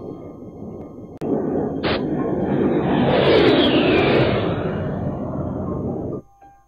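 A Fairchild Republic military jet in a war scenario, with a sharp bang followed by a loud, sustained roaring aircraft rush that swells and then cuts off, and no voices.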